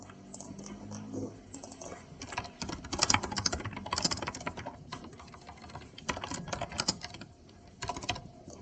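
Computer keyboard typing, close and fairly loud, in uneven bursts of rapid keystrokes with short pauses between, no voices.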